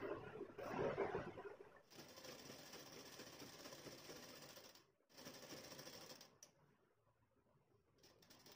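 Sewing machine stitching piping along the front edge of a sleeveless jacket, a steady mechanical whir that is loudest near the start, runs on with a brief pause around five seconds, then fades out.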